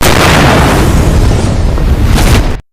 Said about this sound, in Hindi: दोपहर के 3:10 पर जम्मू कश्मीर के पुलवामा के अवंतीपोरा के पास एक जोरदार धमाका होता है।